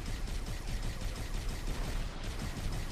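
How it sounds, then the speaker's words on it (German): Dense, rapid gunfire rattles continuously in Halo: The Master Chief Collection, a steady barrage of overlapping shots with no pauses. "ich werde überall beschossen von irgendwelchen Ghosts und Goblins"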